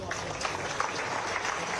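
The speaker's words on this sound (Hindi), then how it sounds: "एक बार जोरदार तालियां।" Applause from an audience at a live state ceremony, as the Chief Minister presents an award, a dense steady patter of clapping that runs through the whole stretch without a break.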